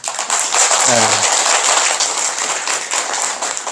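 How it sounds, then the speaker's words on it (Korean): An audience at a Korean Buddhist seated-meditation lecture claps in a dense, sustained burst that fills the whole stretch, with a brief voice near the start. "그분을 위해서 박수 한번 치자고요"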